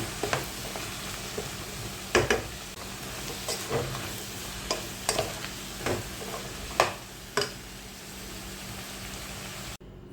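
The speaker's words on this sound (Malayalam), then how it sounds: "ഇനി കുറച്ച് ആവശ്യത്തിനുള്ള ഉപ്പിട്ടെടുത്തിട്ട് ഇളക്കിയിട്ട് അടച്ചു." Vegetables for a vegetable biriyani are stirred in a pot, giving soft intermittent scraping and clinking strokes over a faint steady background hiss, close and fairly quiet.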